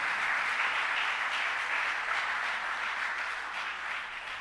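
Audience applause, a dense steady wash of many hands clapping at close range, holding evenly for several seconds before easing slightly at the end, with no voices over it.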